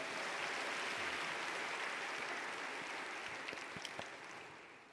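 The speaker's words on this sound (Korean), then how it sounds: "선생님들에게 박수 한번 하겠습니다" An audience gives a sustained round of applause for teachers at a gathering, a dense steady wash of clapping that slowly tapers off.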